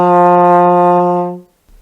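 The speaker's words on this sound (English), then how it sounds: "It's a high note, and we have our slide what we call first position" A trombone holds a single high F in first position, slide fully in, as a steady bright sustained tone that swells then fades out; close, solo, without talking.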